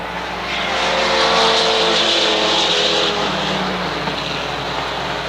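Mini Stock race cars at Waterford Speedbowl roar past in a loud, sustained engine drone that swells as the pack passes close by, then settles into a steady buzz.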